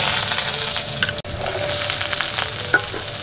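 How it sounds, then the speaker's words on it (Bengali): Cut potatoes frying in hot mustard oil give a steady, close sizzle with small crackles and pops for a few seconds, with no talking. "তেলটা গরম হয়ে গেছে, এবার যে আলুগুলো কেটে রেখেছিলাম আলুগুলোকে আমি একটু ভেজে নেব তেলের মধ্যে"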